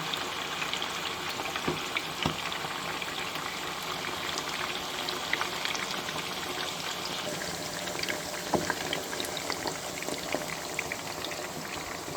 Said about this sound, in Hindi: बस इस तरह ऑयल में फ्राई करना है